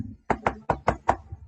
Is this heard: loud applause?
no